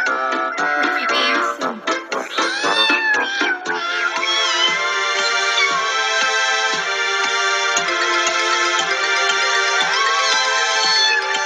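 Cats meow as singers in a children's street musical, tuneful sustained meows and cries layered over bright orchestral music, loud and continuous throughout.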